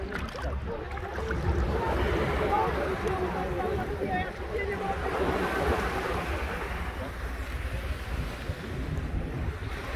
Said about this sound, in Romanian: Destul de mici valurile și astăzi, deși puțin adie vântul.